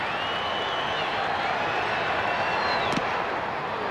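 A steady, dense roar from a baseball stadium crowd during the eighth inning of an Orioles vs Angels game in 1995, a continuous wash of cheering with a voice faintly audible beneath it.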